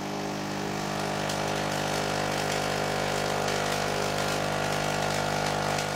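A high-voltage coil running at about 3 kilovolts, throwing fractal fern-like discharges, gives a steady, loud buzzing hum with dense crackle that holds evenly throughout without any pauses.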